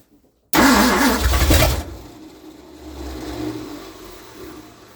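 Ford car engine with a suspected fuel pump pressure fault cranking after a short silence, a loud burst of churning for over a second, then settling into a quieter, uneven rumble as it struggles to keep running.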